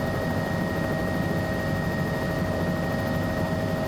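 Bell 206L3 helicopter in Microsoft Flight Simulator 2024, heard from inside: a steady, even turbine whine with a constant rotor drone and a few sustained tonal hums, unbroken and fairly loud.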